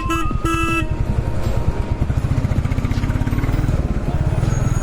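A motorcycle riding through a toll plaza bike lane at night gives a loud, close, rhythmic engine chug, with a short burst of horn honking near the start and faint traffic behind.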